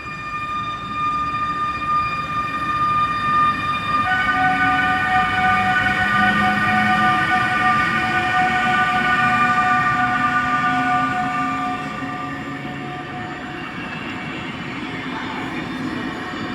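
An EU160 electric locomotive hauling a passenger train passes through a Warsaw station, with steady rolling wheel noise and a sustained high electric whine building and then easing off, heard alone without talk.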